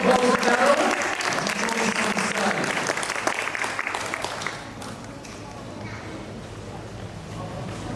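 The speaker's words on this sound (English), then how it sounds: "Please, give a round of applause for Daryl." Audience applause for a speaker being introduced at a business council event, a close, full round of clapping that tapers off and softens midway, leaving sparse claps under a low room hum.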